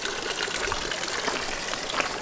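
Water trickling out of a tree in the Swiss mountains near Gigerwaldsee, a continuous close splashing dribble with no talking.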